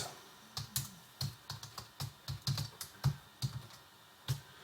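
Keys clatter on a computer keyboard as a wallet password is typed, a dozen or so quick uneven clicks in short bursts, close and fairly quiet, with no talking.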